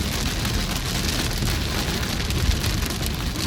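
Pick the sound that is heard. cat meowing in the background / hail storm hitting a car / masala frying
hail storm hitting a car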